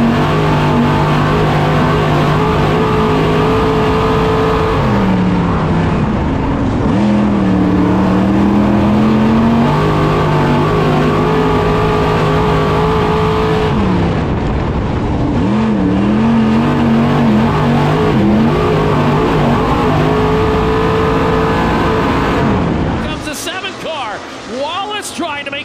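Pack of IMCA modified race cars roaring loudly at a Florida speedway, engines revving and droning continuously as the field takes the green flag into turn one, with a commentator talking over the noise throughout before it thins out at the end.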